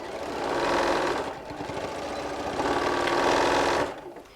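A sewing machine stitches a back tack at the start of a binding on a walker bag, running in two close bursts with a short slowdown between them, loud and steady with no talk.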